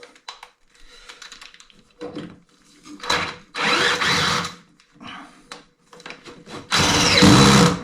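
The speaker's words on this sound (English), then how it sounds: "this is a very old, not very good drill" An old, poor-quality electric drill whirs in short bursts, starting and stopping several times, with quieter clicking and handling noises between runs, while fixing a fireplace.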